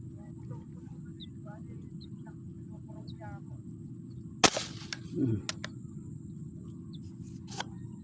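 A single sharp air gun shot cracks out during outdoor air gun fishing, then comes a brief splash or thud, with quiet voices and faint chirping in the background.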